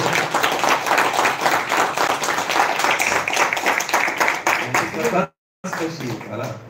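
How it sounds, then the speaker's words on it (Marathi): Audience at a Marathi language day reading event gives sustained, dense applause for a teacher, loud and continuous before cutting off abruptly, then resuming more faintly. "एकदा इरतकर सरांसाठी मला वाटतं आपण जोरदार टाळ्या वाजवू"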